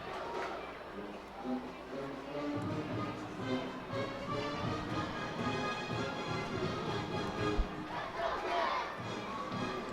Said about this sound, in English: Crowd getting excited here.